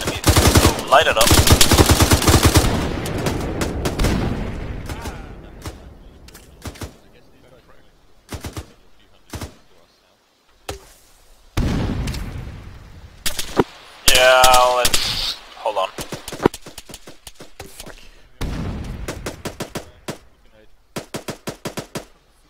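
Machine gun fire in Arma 3, loud rapid bursts up close at first, then scattered shorter bursts and single cracks with quiet gaps between, some bursts nearer and some farther off, with voices occasionally in between.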